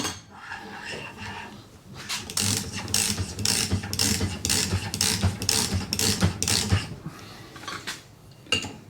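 A ratchet tightens a part while building a barndoor Volkswagen single cab with flipped spindles, giving dense, loud bursts of clicking strokes in a rhythmic series after a quieter start, close up in a workshop setting.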